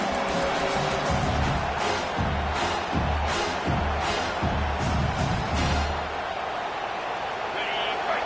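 A football stadium crowd roars in a steady, dense wall of noise, with rhythmic thumps and surges beneath a commentator's voice.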